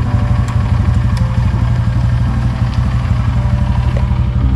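A motorcycle engine idles steadily and close by with a low, even rumble and light mechanical clatter, a bike with a faulty brake, continuous throughout with no talk.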